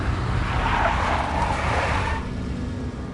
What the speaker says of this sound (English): A big black Mercedes.